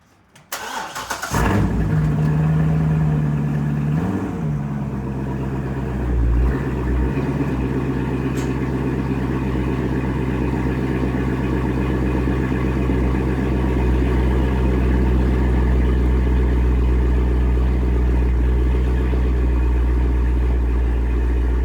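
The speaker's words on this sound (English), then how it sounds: "So I'm gonna pull the car forward about 2 or 3 feet." A 2008 Corvette Z06 V8 fires up loudly and settles into a steady, rumbling idle, with a couple of brief blips of revving as the car creeps forward a few feet.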